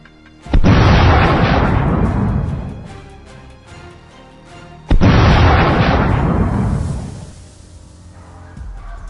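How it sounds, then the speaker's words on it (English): Two loud gunshots boom out during a wild boar hunt in snowy brush, each a powerful blast with a long rolling echo that fades over several seconds before the next shot. "Gunshots ring out almost simultaneously, taking down the one by one."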